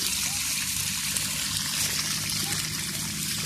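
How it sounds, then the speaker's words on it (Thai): Water rushing strongly from a full one-inch pipe fed by a solar pump, making a continuous close splashing trickle and pouring sound throughout. "น้ำที่ไหลออกมานี่ ท่อหนึ่งนิ้วนี่เต็มเต็มท่อเลยครับแต่ น้ำนี่แรงมากครับ"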